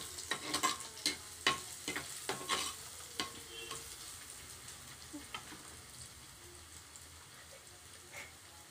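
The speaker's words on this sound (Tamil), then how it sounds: "பூண்டு போட்ட பிறகு இன்னும் அதையோ அதோடு சேர்த்து கொஞ்சம் நல்லா வதக்கிக்கலாம்" Garlic sautés in a pan for beetroot poriyal, a spatula scraping and tapping in quick strokes at first over a soft sizzle that continues more quietly afterward, close and low in level.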